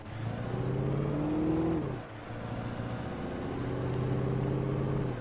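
A car drives in the Alan Wake video game, its engine droning steadily close by. It dips briefly as if shifting gear, then climbs back to a sustained hum.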